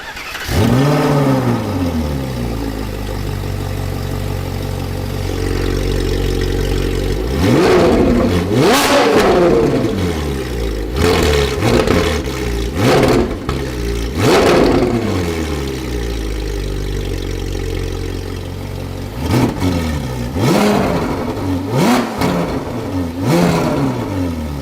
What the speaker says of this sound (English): give it a start up, and see how she sounds